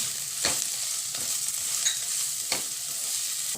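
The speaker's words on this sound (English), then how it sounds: "saute the onions till transparent" Onions sauté in a pan with turmeric for a smoky roasted eggplant bharta, a continuous close sizzle broken by a few sharp scraping stirs; no speech.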